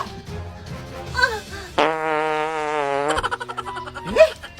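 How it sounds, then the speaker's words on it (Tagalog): A fart: a sustained buzzing, tonal raspberry-like sound lasting over a second, loud and close, bracketed by quick vocal noises and ending in a sputtering series of short pops. "Utot lang yun!"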